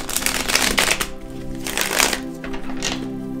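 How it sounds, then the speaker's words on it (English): Crystal Vision Tarot cards by Jennifer Glasso being shuffled in hand, with bursts of riffling and soft slapping in a steady rhythm, close and fairly loud. "I pre-shuffled my decks, but I like to shuffle them one more time."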